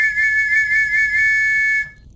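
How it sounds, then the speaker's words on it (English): Arma 3 blast trench whistle signal: one long, loud, steady high-pitched tone holding for nearly two seconds before cutting off abruptly, with faint background hum and no talk. "The blast trench whistle."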